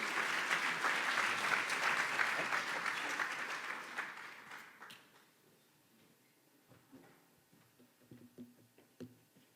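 Audience applause welcoming a speaker at a conference session, a full steady clapping that fades away after about five seconds, leaving a quiet room with scattered faint knocks and shuffles.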